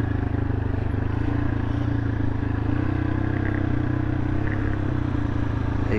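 A motorcycle rides off-road along a Rajasthan border track, its engine holding a steady, loud drone throughout while the rear wheel slips on the loose surface.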